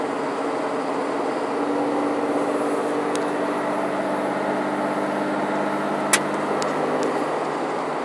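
A 2006 Dodge Ram 2500 SLT 4x4 with a 5.9L Cummins diesel on the road, a steady engine drone with road rumble heard from inside the cab and a couple of brief clicks.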